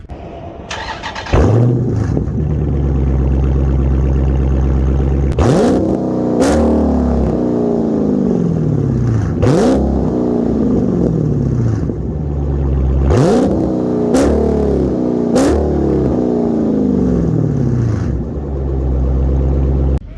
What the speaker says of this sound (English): Now we'll do a startup, and we'll get some exhaust clips.